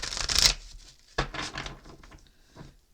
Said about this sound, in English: Let me give them another shuffle here.